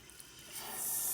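Water runs from a Moen single-handle faucet with a 1225 cartridge, a steady close hiss that swells louder partway through and keeps going to the end.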